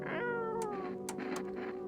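A cat in the video game No, I'm Not a Human gives a drawn-out, wavering meow, loud and close, with brief clicks overlapping it and no talking.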